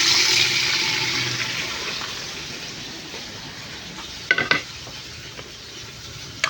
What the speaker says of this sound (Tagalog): Bali sa pagluluto ng ulo ng salmon ay gigisahin natin muna para matanggal yung kanyang lansa.